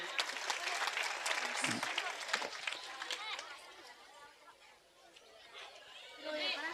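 A church congregation claps along during a Telugu sermon. Dense, busy clapping fills the opening seconds, then thins and softens before swelling again at the end, with voices mixed in.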